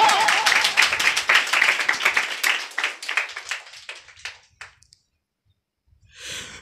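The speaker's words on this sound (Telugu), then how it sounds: "చప్పట్లు కొడతారా?" A church congregation at a Sunday service in Nandikotkur bursts into loud, dense clapping that thins out over about five seconds into scattered claps, followed by a brief silence and a soft rustle.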